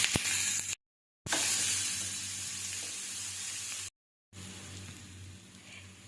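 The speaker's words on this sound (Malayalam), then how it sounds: "പാൻ വെച്ച് ചൂടായതിനു ശേഷം നമുക്ക് കട്ട് ചെയ്ത് വെച്ചിരിക്കുന്ന സവാളയും പച്ചമുളകും ഇട്ട് നന്നായിട്ട്" Chopped onion and green chilli sauté in a hot pan, a soft close hiss of frying broken by two short silent gaps, fairly quiet and with no talking.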